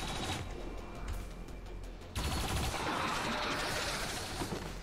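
Turrets fire in XCOM 2 at sectoids, a dense sustained barrage of rapid gunfire that starts abruptly and keeps up loud and unbroken over battlefield noise, with no talking.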